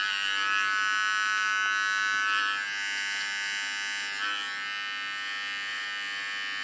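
A small electric hair clipper buzzes steadily for several seconds while cleaning up the hairline contour in a basic men's haircut, a close, continuous high-pitched whine that dips slightly in loudness as it moves.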